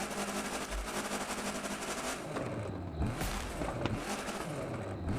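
A Lancia rally car's engine in The Crew 2 racing game, a loud continuous roar that shifts pitch as it revs and accelerates, with brief sharp bursts near the middle, heard alone without talk.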